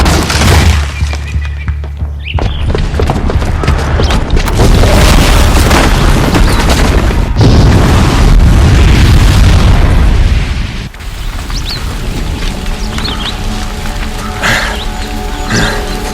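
A bomb goes off in Horizon Zero Dawn, a loud booming blast with crashing, shattering debris that rolls on for several seconds before settling into rumbling game ambience.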